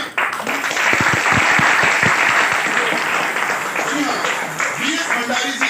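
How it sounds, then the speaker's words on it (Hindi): An audience at an AWPL business meeting applauds a mentor, with dense clapping filling the room, loud at first and easing slightly, while a voice speaks over it. "जोरदार ताली बजनी चाहिए हमारे ग्रेट मेंटर के लिए जो हमारे बीच में कल यहाँ पर हाजिर होने वाले हैं"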